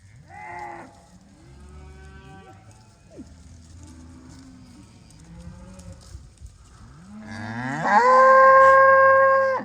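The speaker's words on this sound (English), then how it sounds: "All these red Angus looking cows that I have, they're Angus." Red Angus cows moo in a series of low, drawn-out calls, ending with a loud, close bellow; other cattle low more faintly in between.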